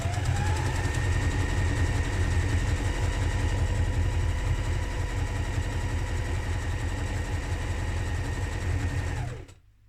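A sewing machine stitches a coat lining in a fast, even, continuous hum that runs close and steady for about nine seconds, then stops abruptly.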